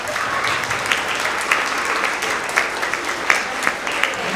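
A school audience applauds at a 6th to 8th grade award assembly: steady, dense clapping from a large crowd in an indoor hall, with a few sharper individual claps popping out.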